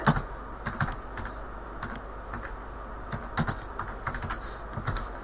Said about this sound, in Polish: i wpisujemy jakiś tam film, jak, jaki nas interesuje, na przykład muzykę, filmik, ja piszę